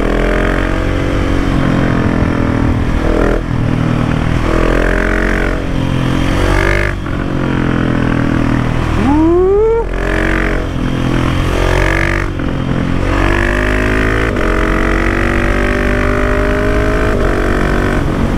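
A 2019 KTM 690 SMC R motorcycle fitted with a Wings exhaust revs hard and repeatedly, loud and close, its single-cylinder engine blipping up and dropping back in short bursts with rising pitch sweeps.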